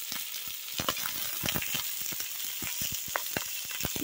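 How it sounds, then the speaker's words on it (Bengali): Spice paste with salt, turmeric and ground cumin fries in a pan with a steady close sizzle and crackle, while quick scrapes and taps of a stirring spoon run through it. "এখন সব মশলাগুলোকে আমি খুব ভালোভাবে কষিয়ে নেব।"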